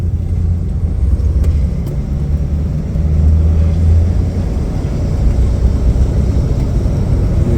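A 1977 Ford Thunderbird cruising on a highway, a steady low engine and road rumble holding level throughout with constant tire and wind noise, no voices.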